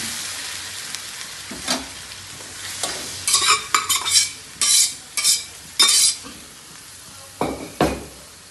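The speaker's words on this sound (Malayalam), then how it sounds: "ചീനച്ചട്ടിയിൽ വെളിച്ചെണ്ണ ഒഴിച്ച് അതിലേക്ക് ഞാൻ വേവിച്ച് വെച്ച ബീഫ് ഇടുന്നുണ്ട്." Cooked beef stirred in hot coconut oil in a wok, producing a steady sizzle broken by repeated loud scraping strokes of a spoon against the pan, each stroke rising sharply then fading.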